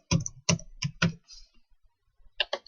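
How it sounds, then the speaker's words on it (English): Quiet computer keyboard typing while a message is written: four quick, distinct key clacks, a short pause, then two or three more keystrokes close by, with no voices. "we just simply type them a message"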